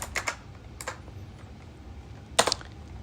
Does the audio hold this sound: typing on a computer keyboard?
yes